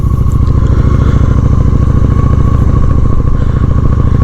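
A Honda Shadow 750 ACE motorcycle rides along in first gear, its engine a steady, loud, close pulsing throb with rapid regular firing beats and a faint mechanical clatter, no voices over it.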